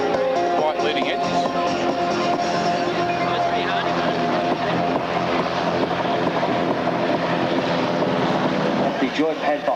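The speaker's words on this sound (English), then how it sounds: "Spitfire." A Supermarine Spitfire with white leading edges flies at the Avalon airshow in Australia, its loud, steady engine drone dominating throughout with speech over it.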